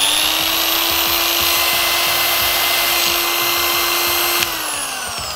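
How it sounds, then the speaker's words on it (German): A Rupes LHR75E mini polisher spins at 4000 rpm with a steady high motor whine and faint rhythmic ticking, close and loud, then dropping slightly in pitch near the end. "Wenn ich die Rupes einmal anmache, dann ist das bei 4000 Umdrehungen"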